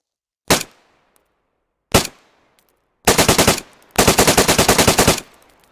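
Submachine gun fitted with an SG5-K buttstock in DayZ: two single loud shots with short decay, then two rapid full-auto bursts of about a dozen rounds each, close and crisp with no talk.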